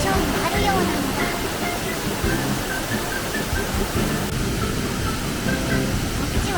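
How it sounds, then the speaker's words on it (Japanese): A Niagara Falls replica waterfall at Shenzhen's Window of the World theme park pours with a steady, dense rushing roar that holds at an even level throughout. "こっちはナイアガラの滝なのだ。"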